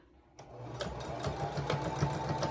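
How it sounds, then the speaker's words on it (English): A sewing machine stitches along the side of a fabric mask, its steady rapid needle chatter starting abruptly and running close and clear to the end. "I'm sewing along the side of it."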